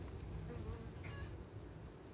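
Guard honeybees buzz at the entrance of a beehive, a close, continuous droning hum with a few individual bees passing by, steady and moderately loud with no talk.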